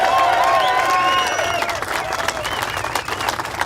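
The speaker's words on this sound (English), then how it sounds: "everybody should give themselves a big round of applause" A crowd at a motorcycle club charity ride gathering claps and cheers loudly, with whoops and shouted voices over sustained applause that gradually thins out.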